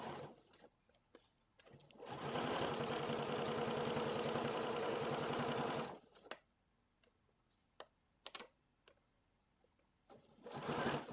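A sewing machine stitching small capri pants for an 18-inch doll, running in one sustained burst of fast rhythmic whirring for about four seconds, close and clear, with scattered clicks and handling noises before and after and a short final run.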